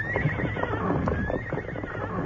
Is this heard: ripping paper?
no